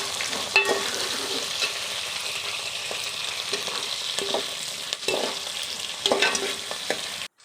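Chopped vegetables and green peas sizzle steadily in hot oil for a vegetable biryani, with a continuous bright frying hiss broken by occasional scrapes and clinks of stirring, close and fairly loud throughout.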